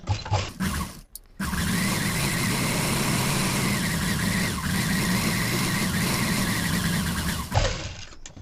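Sewing machine stitching a narrow folded hem along one side of a blouse, a steady close mechanical whir running for several seconds between brief pauses at the start and end.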